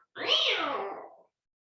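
A single drawn-out meow imitated by a human voice, rising then sliding down in pitch, lasting about a second, close and fairly loud, with silence around it.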